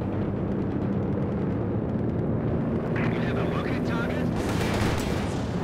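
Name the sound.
Werfer rocket artillery barrage in video game Company of Heroes 2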